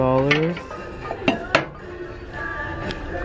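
Ceramic plates handled on a Goodwill thrift store shelf clink together in a few bright, close knocks and taps, following a voice at the start.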